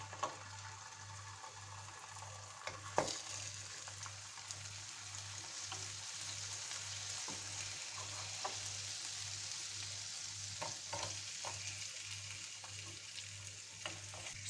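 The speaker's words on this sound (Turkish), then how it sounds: "Tereyağı, soğan ve sarımsakla artık somonları tavaya alıyorum." Salmon fillets frying in a pan with butter, onion and garlic give a steady, soft sizzle, with a few faint clicks and a light scrape near the start, heard alone without voices.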